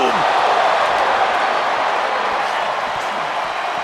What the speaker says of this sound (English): And listen to this capacity crowd.